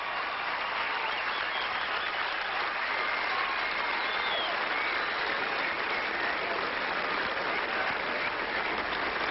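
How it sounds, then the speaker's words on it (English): A tennis crowd on Court 2 at Wimbledon in 2002 applauds steadily after a second-round match, a continuous, even roar of clapping heard from within the stands. "Hearing the applause from his crowd here"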